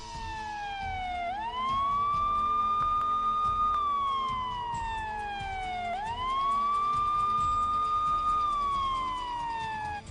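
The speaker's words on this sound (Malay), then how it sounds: "Siren kapal dibunyikan bagi memberi amaran kepada semua anak kapal" A ship's siren at sea, sounded to order a fishing boat to stop, wails in two long cycles, each rising sharply then slowly falling, loud and continuous over faint background noise.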